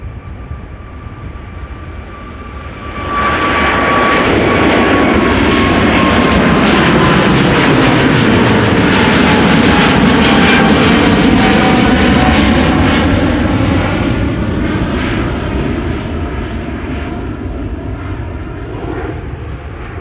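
A China Southern Cargo Boeing 777 freighter bound for Guangzhou passes at Schiphol, its engine roar swelling sharply after a few seconds and holding loud and broad before easing slightly, with a whining tone sweeping through it.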